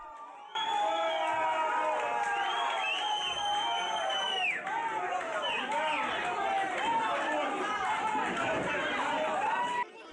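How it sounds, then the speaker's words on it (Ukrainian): A noisy crowd in a courtroom shouts and cheers over one another in steady commotion, voices overlapping throughout with no clear clapping standing out. "Під оплески рідних підозрювані виламують клітку."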